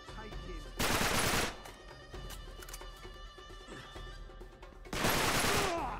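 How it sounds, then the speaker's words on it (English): Gunfire in the video game Uncharted 3, two long bursts of loud rapid shooting separated by quieter combat noise and game sounds. "Shotgun."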